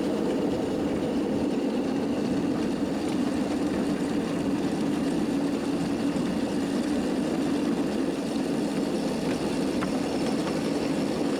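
A 7.5 gauge miniature locomotive runs along a live steam track at Maricopa Live Steamers, giving a steady, moderate, continuous mechanical rumble and hiss without pauses or speech.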